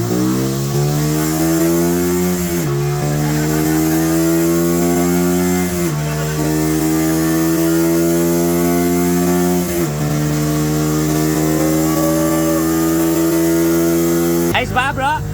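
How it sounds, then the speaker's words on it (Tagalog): A Keeway 152 motorcycle engine revs loudly up close during carburettor tuning, its pitch climbing in several long pulls with brief dips between them. "Keyway, ang motor ng Chicks Boy."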